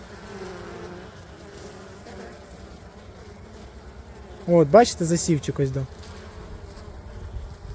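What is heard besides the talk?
honey bees buzzing on frame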